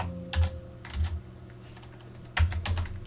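Keys clatter on a computer keyboard while network configuration commands are typed, short bursts of close keystrokes separated by a pause, with no voices.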